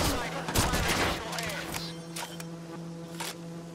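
Gunfire and explosive blasts from a grenade launcher in the video game Watch Dogs 2, a loud burst of rapid shots and booms that thins into scattered pops, with voices shouting over it.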